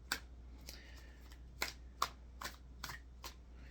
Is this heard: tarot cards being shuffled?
yes